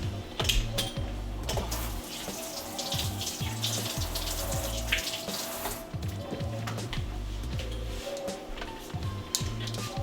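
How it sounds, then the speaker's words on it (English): A hand rinsed under a running kitchen faucet during holiday dinner cooking: steady splashing water with intermittent clunks and rhythmic knocking, close and moderately loud throughout. "Rinse this hand off real quick."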